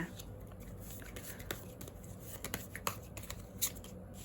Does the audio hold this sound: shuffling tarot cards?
yes